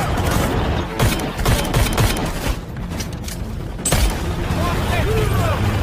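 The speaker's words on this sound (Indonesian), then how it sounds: "Hingga baku tembak antar dua kubu kembali berlanjut." A film gunfight between two opposing groups of soldiers and mercenaries, with dense overlapping gunshots and booms forming a continuous loud barrage throughout.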